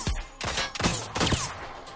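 P-12K gun firing in a video game: several loud, forceful blasts in quick succession, each with a broad burst and trailing decay, filling the short clip with no talk.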